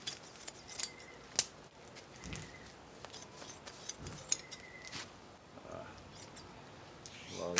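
A mattress being cut open up close makes quiet, irregular snipping clicks and soft rustles of fabric and filling, scattered across a hushed background.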